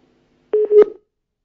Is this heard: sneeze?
no